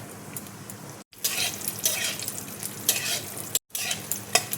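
Raisins fry in hot ghee in a kadai, a steady close sizzle with repeated stirring scrapes and a couple of brief pauses, no voices.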